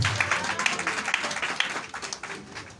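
A church congregation applauding, a short burst of many hands clapping from a moderate distance that fades out toward the end.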